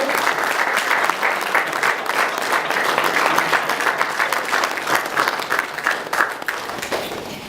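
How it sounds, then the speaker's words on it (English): Loud, sustained applause from a sizable conference crowd at PhUSE India 2014, dense clapping throughout with a slight taper toward the end. "let's give a big round of applause to our sponsors"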